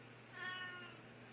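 A single house cat gives one clear, mid-length meow, close and fairly quiet, in an otherwise still indoor room with no talk.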